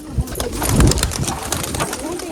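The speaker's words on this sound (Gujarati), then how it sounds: "જો ઓલું પંખા વાળો કબૂતર ઓલા પણ બે પંખા વાળા જો" Fantail pigeons coo close by in low, rolling throaty calls that swell and fade over a couple of seconds, with faint background noise.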